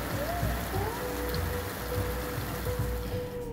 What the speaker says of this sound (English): On the few days the rain came, we took shelter in our trailer.